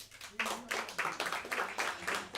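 Thin, sparse applause from a small comedy-show audience, a handful of people clapping in uneven bursts at moderate distance, with no talk over it.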